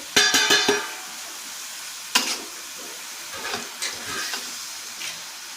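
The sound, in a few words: chicken cooking and being stirred in a pan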